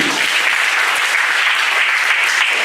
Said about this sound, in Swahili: Pigia Yesu makofi.